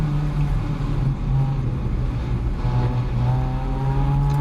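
Caterham race car engine droning steadily on track at close range, a sustained buzzing note that holds and shifts pitch slightly as the car exits a corner, with no talk.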